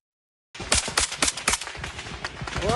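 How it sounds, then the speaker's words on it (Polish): After a brief silence, rapid bursts of loud machine gun fire ring out in the war zone of Bakhmut, Ukraine, sharp repeated shots echoing outdoors. "I takie strzały słychać od wielu, bardzo wielu dni w Bachmucie"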